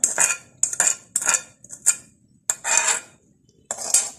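A metal utensil clinks and scrapes against a bowl in quick bursts while caramel sugar syrup is mixed into fruit cake batter, close and alone with no talking.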